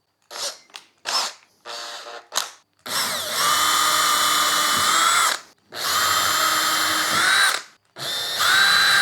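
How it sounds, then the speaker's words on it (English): A power drill runs in several loud, sustained bursts with pauses between them, its motor whine rising and settling, after a few short trigger taps. "So we're gonna do a little drill bit here."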